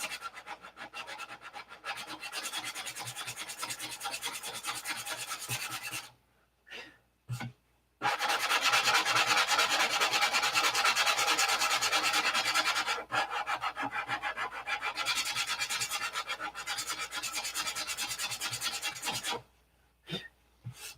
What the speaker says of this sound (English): You notice I sanded most of that aqua green off of there.